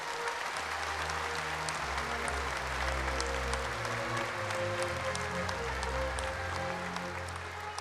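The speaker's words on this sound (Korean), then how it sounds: "독립유공자 여러분께 다시 한번 뜨거운 박수 부탁드립니다." Sustained, dense applause from a large audience at a national Liberation Day ceremony honoring independence patriots, a steady wash of clapping with low hum beneath, heard alone without talk.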